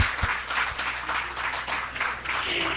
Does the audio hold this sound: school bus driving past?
no